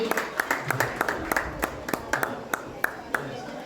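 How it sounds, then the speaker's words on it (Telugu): A group claps for a sister at a Bible retreat in Wafra, Kuwait: a sparse run of sharp, separate hand claps, fairly close and moderately loud, over a low background murmur. "గట్టిగా చప్పట్లు కొడదాం సహోదరికి"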